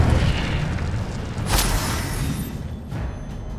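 A spell cast in Hogwarts Legacy, the fire charm Incendio: a rumbling, roaring whoosh of flame with a sharp burst near the middle, loud and close, fading toward the end.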